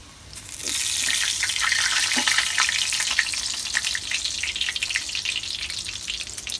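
Bread-crumb-coated mutton parcha frying in oil in a pan over a medium flame, giving a steady, loud, close sizzle with small crackling pops and no talking.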